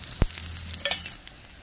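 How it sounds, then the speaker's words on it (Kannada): Garlic and dried red chillies fry in hot oil for a tempering, a close, crackling sizzle with a sharp pop at the start and a few spatters before it settles into a softer hiss. "ಬೆಳ್ಳುಳ್ಳಿ ಸ್ವಲ್ಪ ಫ್ರೈ ಆದಮೇಲೆ ಒಣಮೆಣಸು ಹಾಕಿ ಒಗ್ಗರಣೆಯನ್ನು ಇಡ್ತೇನೆ"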